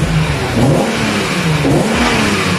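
BMW E36 M3 engine revving close by, fitted with a lighter clutch, a loud continuous mechanical roar rising and falling with the throttle, no voices.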